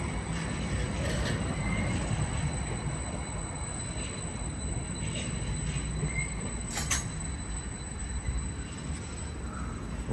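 British Rail Class 745 unit 745-007 moves off at Ipswich station, a steady rumble of wheels and traction with faint squeals and a high electrical whine, heard from the platform.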